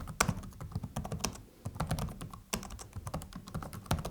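Close typing on an ASUS TUF Gaming A16 laptop keyboard, a quick irregular patter of key clicks with a brief pause midway, fairly quiet and without any talking.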